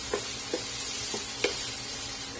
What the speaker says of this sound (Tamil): எல்லாத்தையும் சேர்த்து நல்லா மிக்ஸ் பண்ணி விட்டுக்கலாம்.